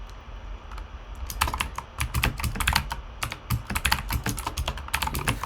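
Rapid, irregular keystrokes on a computer keyboard as code is typed, close and clear, with bursts of clicks and short pauses between them.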